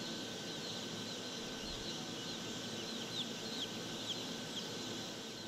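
Newly hatched chicks in a chicken hatchery give faint, high peeping chirps in the second half, set over a steady loud mechanical hum.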